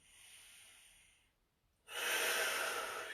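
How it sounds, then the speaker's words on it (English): Two deep breaths during a full-body static stretch: a long, airy inhale, a brief pause, then a louder, rushing exhale, close and alone with no talk. "Work on your breathing. Deep breath in."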